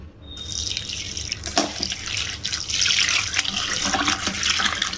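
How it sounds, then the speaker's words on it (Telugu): Running tap water splashes over chopped mint leaves in a sink, with bursts of sloshing and dripping as the leaves are rinsed, close and fairly loud. "కట్ చేసిన పుదీనాని మంచిగా వాటర్ వేసి క్లీన్ చేసుకోవాలి"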